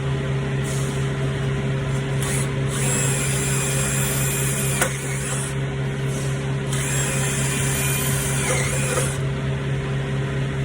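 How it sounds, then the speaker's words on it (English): A power drill whirs steadily up close, its motor humming with a few short bursts and pauses as it drills bolt holes on a Freightliner Cascadia truck. "And drill some holes."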